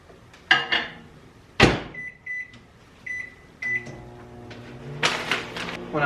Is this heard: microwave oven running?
yes